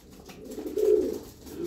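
Young gray pigeons coo once in a low, soft swelling call while feeding in a loft, close and brief against quiet surroundings.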